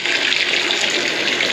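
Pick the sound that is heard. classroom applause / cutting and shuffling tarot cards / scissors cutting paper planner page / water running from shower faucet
water running from shower faucet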